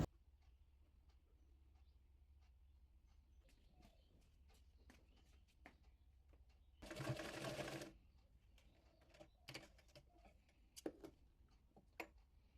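A sewing machine stitches decorative pleats for the front panel of a baby frock, one loud burst of running lasting about a second, then quieter clicks and handling taps in a near-silent room.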